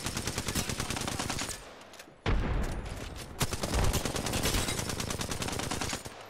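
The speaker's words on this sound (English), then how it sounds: "They're shooting at us." Enemy gunfire in Apex Legends rattles in rapid automatic bursts, loud and close, pausing briefly before resuming in sustained sprays with sharp individual reports.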